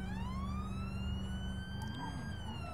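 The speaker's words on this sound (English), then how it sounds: "Perfect siren." An ambulance siren in the BeamNG driving game on a UK village map, loud and steady, a continuous wailing tone with a low engine drone beneath it.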